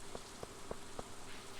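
Rain falls in the Stardew Valley video game as a soft, steady patter, with four evenly spaced thumping taps over a quiet background and no voices.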